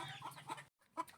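Hens cluck in short, close bursts with a brief pause between them.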